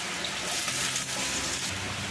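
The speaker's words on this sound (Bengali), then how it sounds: "বাইরে প্রচণ্ড বৃষ্টি পড়ছে," Heavy monsoon rain pouring down outdoors, a steady, dense hiss of falling water with no break.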